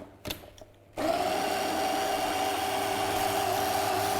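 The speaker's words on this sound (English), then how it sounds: "Okay, so then I want to whisk all those together." An electric whisk starts up abruptly after a few light clicks and then runs steadily, a loud even motor whir mixing vanilla and wet ingredients in a bowl.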